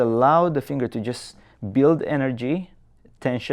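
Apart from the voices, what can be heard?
No distinct noise like a dog, phone or traffic.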